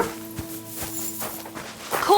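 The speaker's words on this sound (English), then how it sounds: "Call back that dog, or I'll report you for being a public nuisance." A dog barks in the Kingdom Come: Deliverance 2 video game, giving a few short, close yips and woofs in a loose rhythm with faint ambient sound behind them.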